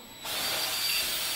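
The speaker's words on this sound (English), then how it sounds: "So let me just drill down," A power drill starts and bores steadily into a center-punched hole while fitting parts on a Van's RV-7 aircraft, a sudden loud high whine that holds evenly after a quiet start.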